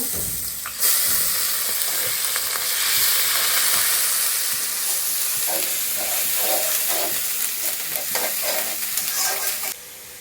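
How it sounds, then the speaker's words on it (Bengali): Onion paste sizzling and frying in hot oil with green chilies, a loud steady crackling hiss with intermittent stirring scrapes, close and continuous with no talking. "কাঁচামরিচ দেওয়ার পরে দিতেছি পেঁয়াজ বাটা। পেঁয়াজ বাটা পুরোটাই দিব।"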